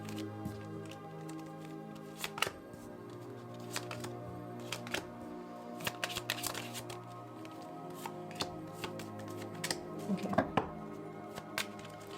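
Witch Oracle cards are shuffled by hand during a tarot-style reading, giving soft, irregular riffling and slapping bursts against a low steady background hum, with no talking.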